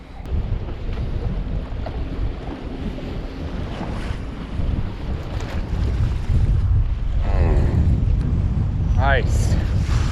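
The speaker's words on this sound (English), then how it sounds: "it's really still windy" Strong autumn wind buffeting a fishing boat on open water, a loud steady rush with microphone wind noise and lapping waves, gusting throughout, with a brief higher whine near the end.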